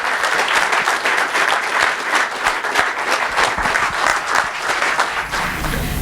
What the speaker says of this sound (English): Give a warm hand of applause for Laurel to take over the panel.